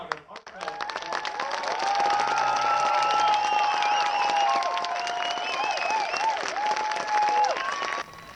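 A warm round of applause from a crowd of visitors at Mount Rushmore, steady dense clapping lasting about eight seconds with voices and a sustained tone running underneath, cutting off near the end.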